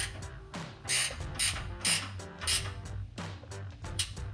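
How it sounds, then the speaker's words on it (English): A ratchet tightens the 10 mm factory exhaust bolts on a 2019-2023 Ford Ranger during an MBRP exhaust install, with quick bursts of close clicking separated by short pauses. "These are the 10 millimeter factory bolts. I'm going to tighten those down."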